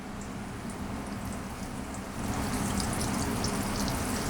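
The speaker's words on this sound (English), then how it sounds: "So again, we're just frying this in vegetable oil right now." Banana pieces frying in vegetable oil in a home kitchen pan, a steady close sizzle and crackle that grows a little louder partway through, with no talking.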